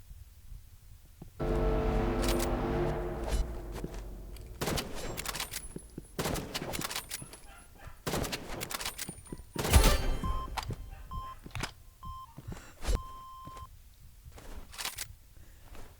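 Sniper rifle fire in the Roblox Rivals video game comes as a series of sharp, loud cracks and bursts with scattered clicks and thuds between shots.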